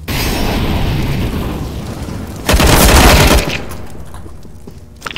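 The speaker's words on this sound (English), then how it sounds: "Throwing fire." A fire grenade in the CS:GO video game bursts with a loud whooshing blast partway through, after a background of steady rushing noise, then fades into quieter rumble and a small pop at the end.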